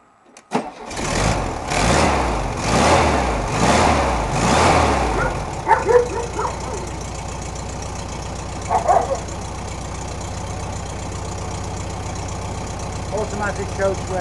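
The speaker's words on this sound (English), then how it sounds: "Okay, now I'm going to start the engine from cold." Cold start of an air-cooled VW Beetle/Camper engine after standing overnight: a few seconds of rhythmic starter cranking, the engine catching, then a steady close idle with a few small mechanical clicks.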